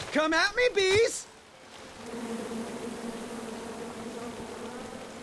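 Bees buzz in a King's Quest game scene, a low steady drone rising after a loud voice and holding for several seconds.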